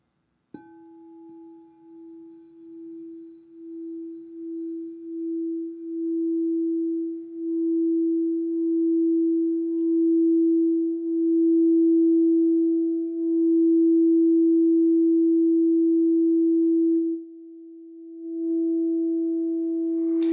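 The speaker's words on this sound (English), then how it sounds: "gently striking the bowl and then picking it up after the strike" A crystal singing bowl rings with a single pure sustained tone after one strike, swelling gently and holding steady, quiet and alone.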